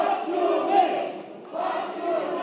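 A crowd at a Korean party's joint campaign rally cheers and claps loudly in two swelling bursts as a candidate is welcomed to speak.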